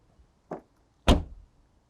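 Rear trunk of a GAC Aion S Plus electric sedan opening: a soft mechanical click, then a louder thunk as the lid releases, both close and distinct.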